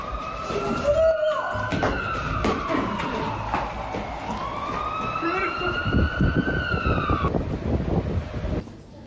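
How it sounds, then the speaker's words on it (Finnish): Wailing emergency sirens rise and fall, with several overlapping tones sweeping up and down against traffic and wind noise. "Ei kun noi sireenit!"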